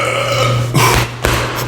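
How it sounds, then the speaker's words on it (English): A loud, close burp after drinking coffee, a rough throaty belch that fills most of the moment with a brief break partway through. "The coffee got me burping."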